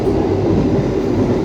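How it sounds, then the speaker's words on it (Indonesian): Steady, loud rumble inside a carriage of the Malabar passenger train to Jogja, heard from a seat near the door: continuous low wheel and engine drone with faint rattling and no voices. "hanya terdengar suara kereta"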